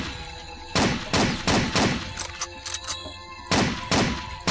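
Gunfire in the video game Blade of Agony, loud repeated shots in short bursts and single blasts, close and dense with no talking.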